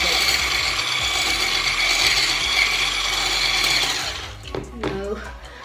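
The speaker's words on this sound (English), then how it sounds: "let's make it fluffy by whisking it" Dalgona coffee being whisked fast in a bowl, a dense continuous rattling whir that stops near the end, followed by a few clinks and soft voices.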